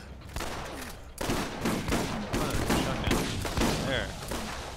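Rapid submachine-gun fire in the video game Borderlands, dense repeated bursts that run almost the whole time, loud and close, with a voice speaking over them.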